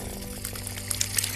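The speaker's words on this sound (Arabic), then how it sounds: "نغسل ايدينا الاول بالمية." Water is poured over hands for washing at a date palm farm, a short, steady splashing trickle, close and moderately loud, with no talk.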